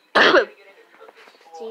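A single sharp cough and throat clear from someone sick with a bad cough, loud and brief at the start, followed by faint quiet background.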